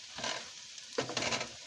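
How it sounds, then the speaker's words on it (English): Flour sizzles and crackles in a hot frying pan while being stirred, two close bursts of frying hiss, the second louder after a brief scrape. "Yeah, but I want to hear that sizzle."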